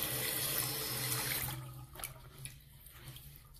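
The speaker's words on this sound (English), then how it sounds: "we'll rinse it and see what it looks like" Tap water running into a sink while a pumice-scrubbed stain is rinsed, a steady rushing splash that cuts off midway, leaving faint drips and small splashes.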